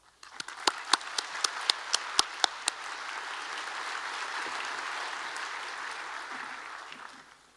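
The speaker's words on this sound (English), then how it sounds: "Please give him a round of applause." At a medical school commencement ceremony, a few sharp individual claps ring out first, then a crowd's applause swells into steady sustained clapping before fading away.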